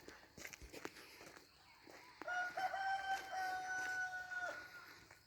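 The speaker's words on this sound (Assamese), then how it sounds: "কুকুৰাই ডাক দি আছে" A rooster crows at dawn in Diphu town, Assam, one long drawn-out crow at moderate distance, preceded by soft footsteps and light background noise during a morning walk.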